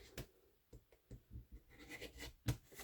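Scissors cutting a small 2x2 inch fabric piece for a zippered ID case, with soft, irregular snips and scratchy fabric rustles, quiet and close, no talking.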